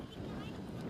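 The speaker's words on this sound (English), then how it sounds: "it's a very windy day here at Teesside Autodrome" Wind buffeting a microphone at Teesside Autodrome racing circuit on a sunny, very windy day, a steady close rumbling roar lasting about a second.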